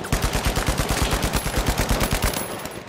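Automatic gunfire in the video game The Finals: a rapid, steady burst of close, loud shots in even rhythm for over two seconds, then stopping.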